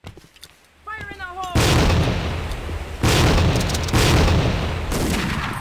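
Grenade blasts from the Tactical Ops video game arrive as a series of loud, booming bursts, about three in quick succession, following a brief spoken call and a short warbling tone.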